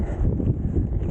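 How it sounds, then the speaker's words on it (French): Strong headwind buffets a cyclist riding gravel roads, a loud low roaring rush of air over the microphone that holds steady without letup. "Et il y a un satané vent."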